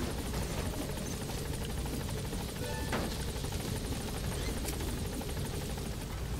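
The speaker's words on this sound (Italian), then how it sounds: "No, io voglio stare sull'elicottero." Helicopter in the video game Metal Gear Solid V, a steady loud rotor whir with a fast pulsing chop, constant and close throughout without pauses.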